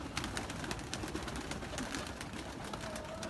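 Domestic pigeons, a flock of around thirty males being let out before a bath, coo and stir in a continuous low murmur, with soft wing and body movement around them.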